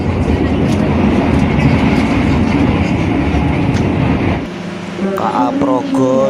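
The KA Progo passenger train travelling between Jakarta and Yogyakarta at night, a loud steady rumble of the moving carriage with brief rail clatter, while a voice speaks over the last moments.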